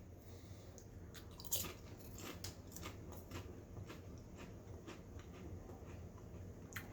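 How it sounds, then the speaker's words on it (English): Close, repeated crunching bites and chewing of Quest chili lime tortilla-style protein chips, sharp brittle cracks spread through several seconds over a steady low background hum. "So it's got tons of crunch."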